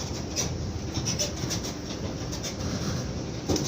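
A tourist train rumbles steadily along the rails with a continuous clattering roll, moderately loud and close, with no one speaking.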